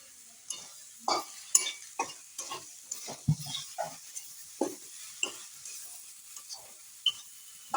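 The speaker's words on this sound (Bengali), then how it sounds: "লাউটা দিয়ে মশলাটা ভালো করে মাখাতে হবে।" Tender bottle gourd being mixed with spices in a pan for a prawn dish, a series of separate scraping stirs and light utensil knocks at a loose rhythm over a faint background sizzle, no talking.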